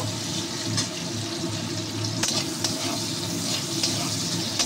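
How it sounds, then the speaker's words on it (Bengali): Onions frying in oil in a pan for a Bengali banana-flower and prawn dish, after chilli and bay leaf tempering: a steady, dense sizzle with a few brief clicks and stirs, close and continuous, with no talk. "এই দেখুন পেঁয়াজটা সুন্দর করে একটু ভেজে নেব।"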